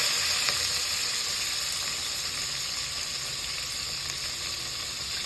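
Dried red chillies, asafoetida, curry leaves, green chillies and onion frying in a pan for Indian pappu charu, a steady close sizzle with a soft continuous hiss throughout and no talking.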